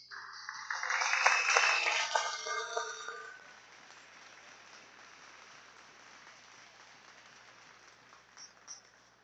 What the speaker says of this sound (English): give a round of applause to both teams